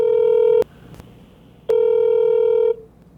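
Two loud steady telephone tones, each about a second long, separated by a short gap with a faint click, as an outgoing call rings on the line.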